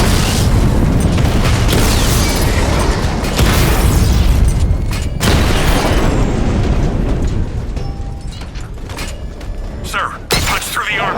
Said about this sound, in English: Your 60mm cannon will penetrate these heavily armored units,